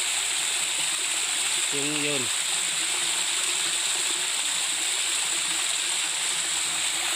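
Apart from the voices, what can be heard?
water flowing out from the bottom of a dam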